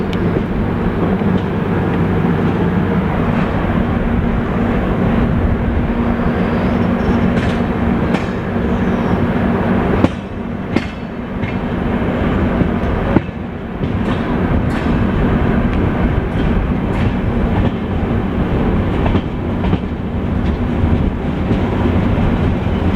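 A Chalukya Express passenger train rolls out of Sulebhavi station in India in light drizzle, heard close and loud as a continuous rumble with rhythmic clickety-clack of wheels over rail joints and occasional sharp clanks, with no talking.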